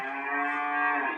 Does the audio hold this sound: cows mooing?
yes